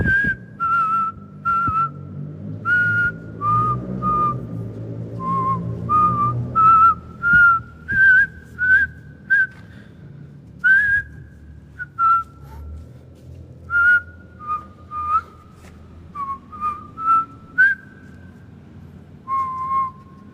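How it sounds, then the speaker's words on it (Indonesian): A person whistles a slow, wandering tune in short phrases with pauses between inside a machine factory, close and clear over faint background noise. "Oke, gue coba pakai siulan sebentar ya."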